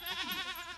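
Goat bleating in the farming game Coral Island, a single wavering, nasal bleat held for nearly a second, close and fairly loud with no voices over it.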